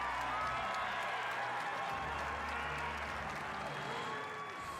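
A crowd at the 2025 Vegas Shoot archery tournament cheers and applauds the archers. Sustained clapping and cheering fill the hall, with occasional shouts rising above the steady roar.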